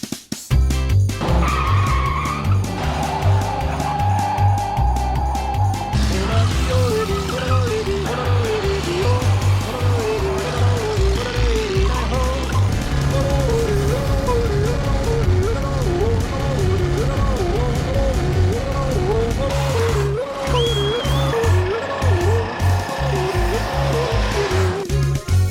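Old cars race up an 1,800-foot hill climb, engines revving and whining loudly with shifting pitch and tyre squeal, close passes filling the whole stretch with talk mixed in.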